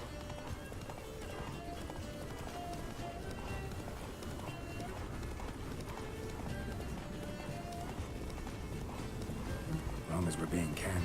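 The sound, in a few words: horse Roach galloping in The Witcher 3 video game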